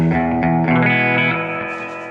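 Electric guitar chords ring out through a Fender '65 Deluxe Reverb reissue amp with heavy reverb, the notes washing and lingering into a long sustained tail.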